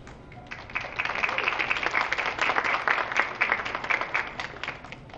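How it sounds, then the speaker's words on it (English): An audience at a middle school honor society induction ceremony gives a round of applause, a steady dense patter of many hands clapping that holds evenly throughout at moderate distance. "Give them a round of applause."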